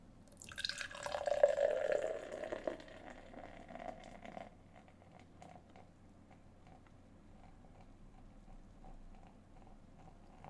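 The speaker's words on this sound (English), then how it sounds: "we'll get into the theatrics of a 5-minute pour" Beer is poured from a can into a glass: a soft splashing pour swells for a few seconds, then settles into faint fizzing and small drips.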